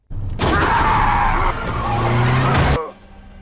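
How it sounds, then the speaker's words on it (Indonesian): A car in a monster horror film starts up and speeds off, its tires screeching and skidding loudly in one sustained squeal of about two seconds over a roaring engine before it cuts off abruptly. "Saat menghidupkan mobil dan menjalankannya sangat mengejutkan"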